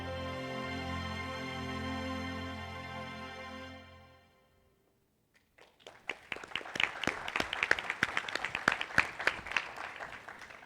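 A sustained musical tone fades to silence, then applause from a panel audience starts sparse and builds into dense, uneven clapping from many hands at moderate distance.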